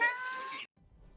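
A cat gives one short, clear meow, tonal and close, followed by a brief silence and faint room noise.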